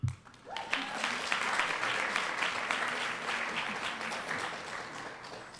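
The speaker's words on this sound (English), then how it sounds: "Round of applause for our graduates, please." Crowd applause for graduates at a Kente stole ceremony: a brief voice at the start, then sustained, full clapping from a large audience that holds steady throughout.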